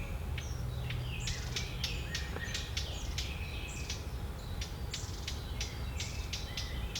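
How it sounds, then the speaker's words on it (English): Several birds sing and chirp in a wood, repeated bright whistles and short calls at moderate distance over a constant low background hum, with no talking. "Quite a lot of bird life in this wood. Didn't see that many, we did hear an awful lot"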